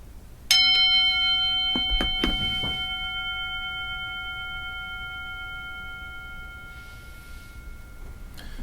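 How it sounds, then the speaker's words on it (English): A single meditation bell strike rings out clearly, its bright harmonic tones sustaining and slowly fading over several seconds in a quiet room. "I'm going to ring the bell."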